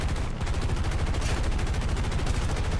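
A P-47 Thunderbolt's machine guns fire one long, continuous burst in the War Thunder combat flight game, loud and steady throughout.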